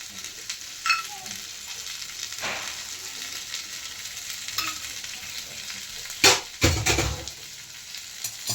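Spoonful of ghee hitting hot charcoal set in a pan with fish and prawns, giving a faint steady sizzle with a few louder hissing bursts, the strongest near the end.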